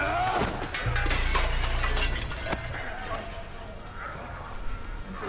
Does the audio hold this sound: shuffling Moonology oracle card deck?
no